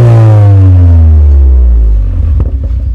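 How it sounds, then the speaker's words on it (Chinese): A modified exhaust on a 2015 Mercedes-AMG A45 (W176, turbocharged inline-four) revs loudly with its exhaust valve open, a rising then falling engine note close to the microphone, ending in crackly pops. "有开阀门的声音"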